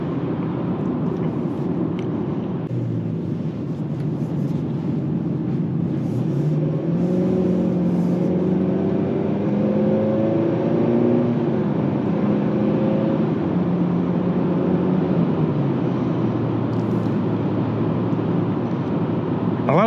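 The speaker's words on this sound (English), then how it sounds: "A lot of the noise that comes from the engine, it's not really so much the engine, it's the exhaust that it sounds like." Engine and exhaust drone of a 2024 Nissan Sentra SV heard from inside the cabin while driving, a steady low rumble that rises slightly in pitch midway, with no talk.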